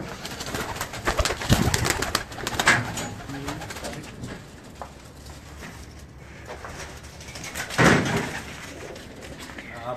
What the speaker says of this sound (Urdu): بہت اچھے کبوتر بنائے ہوئے ہیں قیوم بھائی نے, بہت اچھے کبوتر بنائے ہیں